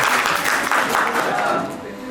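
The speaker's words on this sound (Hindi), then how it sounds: "जोरदार तालियों से सबका स्वागत करें।" Loud applause at a PM Vishwakarma anniversary meeting in Ranchi welcoming the guests, a steady wash of clapping from a crowd that holds for about two seconds, with faint voices underneath.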